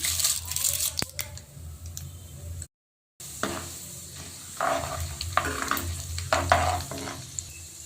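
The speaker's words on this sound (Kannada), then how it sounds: "ಒಂದು ಸ್ಪೂನ್ ಸಾಸಿವೆ ಹಾಕ್ಕೊತಾ ಇದ್ದೀನಿ ಒಂದು ಸ್ಪೂನ್ ಕಡಲೆಬೇಳೆ ಒಂದು ಅರ್ಧ ಸ್ಪೂನ್ ಉದ್ದಿನಬೇಳೆ ಹಾಕ್ಕೊತಾ ಇದ್ದೀನಿ" Mustard seeds, chana dal and urad dal fry in hot oil with a close crackling sizzle and scattered spluttering pops, broken by a brief drop to silence midway before the frying resumes; no speech.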